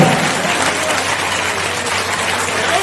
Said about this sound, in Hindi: जोरदार तालियां भामाशाह के लिए